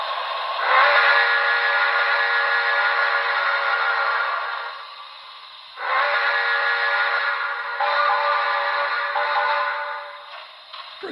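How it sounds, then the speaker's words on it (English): Steam whistle from a BLI HO scale NYC Commodore Vanderbilt Hudson model locomotive with Paragon4 sound, two long chime blasts with a brief dip between, loud and close with no talk. "Curious about the whistle on this one."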